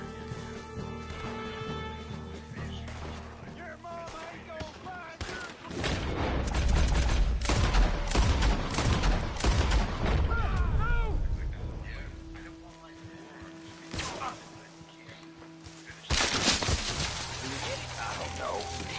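Bursts of gunfire ring out during Red Dead Redemption 2 gameplay, mixed with game music, animal honks and other effects, with the shots growing dense and loud midway.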